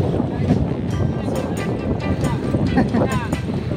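Strong seaside wind in Davao buffets the microphone in a steady low roar, with a person talking over it throughout.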